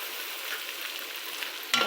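Bitter gourd stir-fries with oyster sauce in a pan, a steady hissing sizzle throughout, with a sharper scrape of stirring near the end; no voices.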